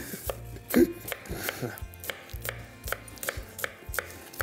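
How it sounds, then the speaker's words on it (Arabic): An onion is chopped with a knife on a board, a quick run of crisp, evenly spaced taps heard close and clear with no talking. "انا عم اقطع البصل"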